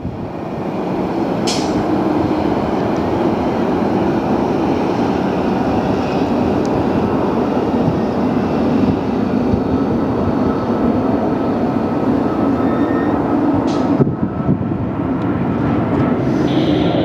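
An Airbus A380 approaching to land at LAX produces a steady, loud, broad jet roar that holds evenly throughout with little change.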